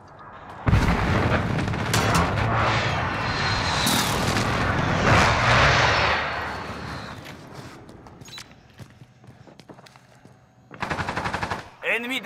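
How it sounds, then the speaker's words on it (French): A drone from the video game Modern Warfare flies overhead. Its loud, droning engine hum fills the first half of the clip alongside bursts of game gunfire, then fades away, and a short crackle of shots returns near the end. "Drone ennemi au-dessus."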